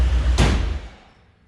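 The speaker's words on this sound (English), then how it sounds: "Now I will close the door." A single solid thud of a Mercedes car door shutting, close and loud, over a low engine hum from the running engine that fades afterward.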